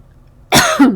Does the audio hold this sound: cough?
yes